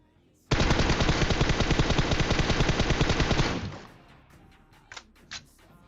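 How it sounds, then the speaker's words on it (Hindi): A UMP45 submachine gun in PUBG Mobile fires a loud, close sustained burst of about three seconds, then cuts off, leaving a faint tail and a few scattered distant knocks. "सस्ती गन चला रहे हैं भाई, यूएमपी 45 चला रहे हैं।"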